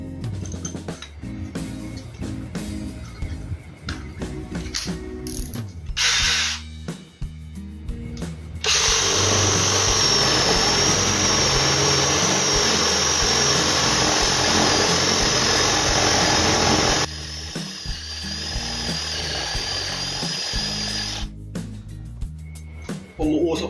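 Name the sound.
Dewalt 12V brushless drill driver drilling with dull bit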